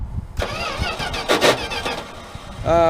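An old truck engine cranks, catches and fires up, then settles into a rough idle before being revved higher near the end; the sound is loud and close, with a voice heard briefly.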